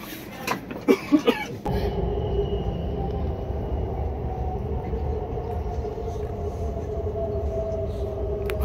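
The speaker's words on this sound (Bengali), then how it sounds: "আবার ট্রেন জুম জুম রওনা" A London Underground train pulls away after a few sharp clicks and thumps, settling into a loud, steady rumble with rising motor whine that fills the carriage without letup.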